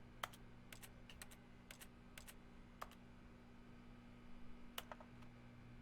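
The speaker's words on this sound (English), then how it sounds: "my interaction sound is literally like keyboard noises" Clicky keyboard-like interaction sounds from the video game The Stanley Parable: Ultra Deluxe, a series of short, sharp taps in irregular bursts over a steady low hum, fairly faint, with no talking.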